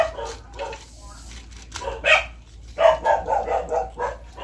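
Several dogs bark in short, repeated bursts, close by, with yips and a pause midway before a quick run of barks.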